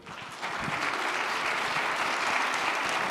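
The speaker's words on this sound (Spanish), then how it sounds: "Otro aplauso para Elaine," Audience applause at a lecture on animal welfare and sustainability, a steady wash of many hands clapping that swells after a brief start and holds at even loudness throughout.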